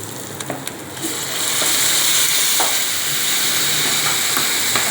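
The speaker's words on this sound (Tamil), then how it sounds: "வெங்காயம் வதங்கிடுச்சு." Onions sauté in a hot pan with a steady, loud hiss and crackle, broken by occasional sharp clicks and scrapes of stirring.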